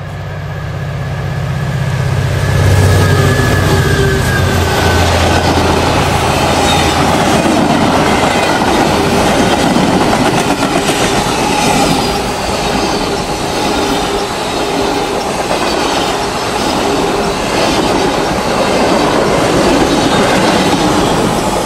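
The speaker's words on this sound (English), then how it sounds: "It's a passenger train." A passenger train roars past close by, loud and continuous, with rhythmic clickety-clack from the wheels over the rail joints and some faint squealing from the wheels.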